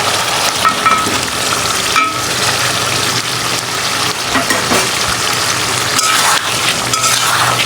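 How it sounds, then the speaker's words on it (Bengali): Fried potatoes sizzling loudly in a pan with cooked-down chicken masala, a continuous close frying hiss with occasional stirring scrapes and clinks, no talking. "আমি এখানে আলুগুলো দিয়ে দিব ভাজা আলু"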